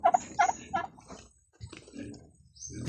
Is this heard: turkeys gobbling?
yes